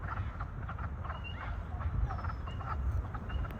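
Many frogs croak from wetland water along a park creek trail, heard as dense overlapping croaks at mid distance over a constant outdoor hum, with faint bird calls mixed in.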